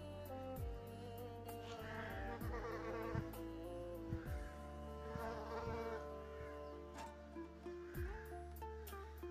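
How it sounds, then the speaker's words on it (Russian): A bee buzzes around the pink and lilac flowers of a garden at a dacha, a steady insect drone running throughout, close and fairly prominent, with no talking. "Пчелка прям где-то, а вот на этом цветке."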